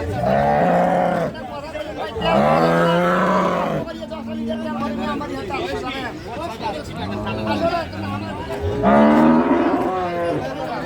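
Cattle, including Jersey-bred cows, bellow at a busy livestock market, with several long, loud moos close by amid crowd chatter and talking voices.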